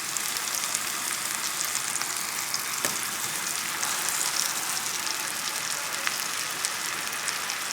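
Endive braising in butter in a pan, giving a bright, steady sizzle and crackle at close range with a few faint pops throughout.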